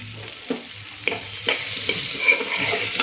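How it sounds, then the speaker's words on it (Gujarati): Crushed millet being stirred in hot ghee for khichdi, with a steady close sizzle and a few soft scraping stirs of a spoon against the pan, no voices. "બાજરીને આપણે બરાબર હલાવી લઈશું"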